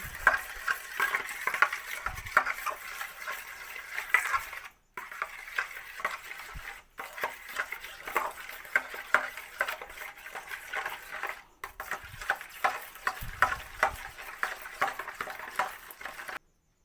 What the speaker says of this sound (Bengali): চিনি দিয়ে দেবো রিফাইন তেল দিয়ে সময় সমস্ত কিছু আমি মিশিয়ে নিই